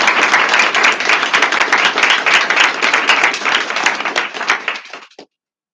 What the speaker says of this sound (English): All right, round of applause for these guys.